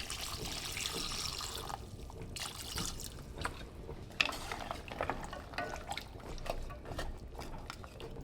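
Vinegar pours into a pot of peppers, including small red Chinese five-color peppers, as a steady close trickle and splash lasting several seconds, with faint clinks and shifting flow.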